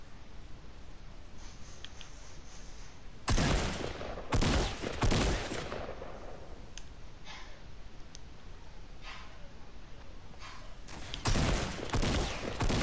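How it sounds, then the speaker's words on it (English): Nearby gunfire erupts in short bursts: a loud volley around the middle, a couple more quick blasts, then another burst near the end, separated by quieter stretches with faint ambient noise. "Is that you shooting?"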